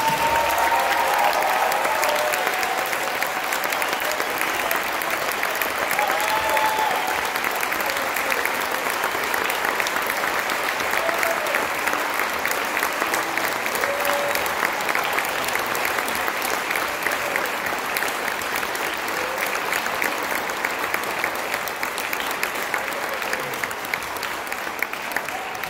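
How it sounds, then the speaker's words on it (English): Audience applause at a high school spring band concert, a dense, sustained clapping that stays loud and even for about twenty-five seconds with a faint crowd murmur underneath. "let's give these guys one big round of applause"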